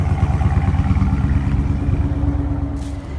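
Jeep SRT engine idling with a deep pulsing exhaust rumble, loud and close, a steady throb that eases slightly toward the end.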